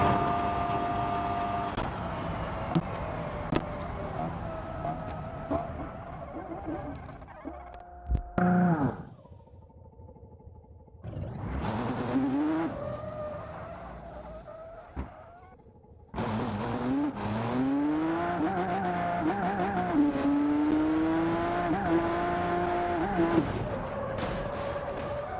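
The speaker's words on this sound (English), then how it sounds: "Even after hitting the other truck at like 120 miles per hour" Pickup truck in the video game BeamNG Drive racing at high speed, its engine revving and rising in pitch, cutting out abruptly, then roaring back up, with a sharp break like an impact.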